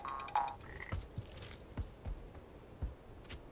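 A frog croaks in the video game PaPo & Yo. One faint high call is followed by a series of soft, low, thumping croaks spaced at irregular intervals, with no voices over them.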